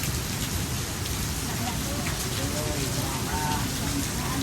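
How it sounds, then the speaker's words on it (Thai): Heavy rain falls steadily in a rural village, a dense unbroken hiss of drops on surfaces, loud and close throughout. "ฝนตกมาเลย"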